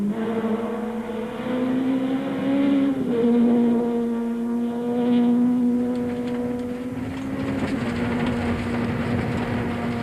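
A Volkswagen rally car races fast along a twisty gravel road, its engine note droning steadily and shifting pitch as it climbs and drops through gears, loud and continuous throughout.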